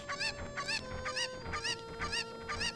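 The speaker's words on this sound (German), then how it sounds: "Wenn ich jetzt das Huhn dort rauf werfe." A chicken in the Zelda Ocarina of Time video game squawks after being thrown: about six evenly spaced, rising-and-falling clucks in a steady rhythm over a sustained game music tone.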